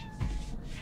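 A single short, quiet meow from a cat in the video game Cyberpunk 2077 lasts under a second.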